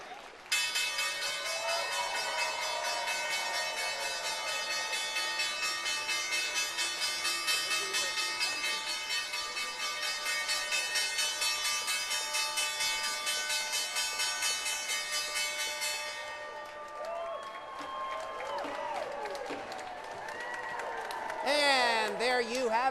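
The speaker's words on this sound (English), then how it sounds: "Time now for the bell, presented by the team from Bread Financial." Closing bell ringing steadily on the Wall Street trading floor, a sustained bright metallic clangor lasting about sixteen seconds with applause and cheering from the floor crowd under it, then fading into clapping and chatter.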